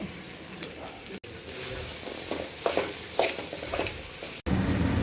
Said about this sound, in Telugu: అది వేసి కలుపుకొని ఆపుకుంటే బీరకాయ ఫ్రై రెడీ